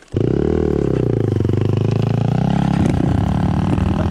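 A BSE 250 or Geon 300 motorcycle engine revs loud and close, a steady throaty roar held for about four seconds with a rougher, shifting tone near the end.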